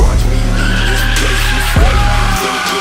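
An Infiniti G35 with a stock engine drifting, loud continuous tire squeal over a roaring engine, with a sharp shift in pitch partway through before the engine note drops away.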